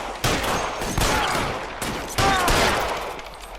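Rapid bursts of gunfire crack through an L.A. Noire shootout, several loud volleys in quick succession with brief gaps and ringing tails between them.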